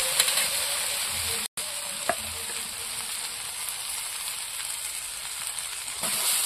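Chili powder sizzles steadily in hot oil in a pan while a Bengali fish curry with raw banana is cooked, giving a continuous close, bright frying hiss with a brief break and one small pop.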